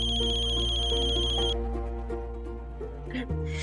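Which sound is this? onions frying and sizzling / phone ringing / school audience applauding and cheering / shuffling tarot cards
phone ringing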